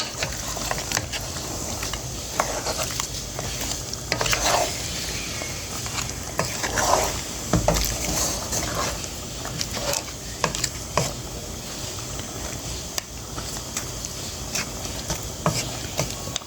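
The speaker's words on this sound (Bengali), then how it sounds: "দিয়ে একটু নাড়া দিয়ে দিচ্ছি।" Biryani meat with a spoonful of lemon juice is stirred in a pot, giving a steady run of scraping and clattering spoon strokes with a faint sizzle underneath.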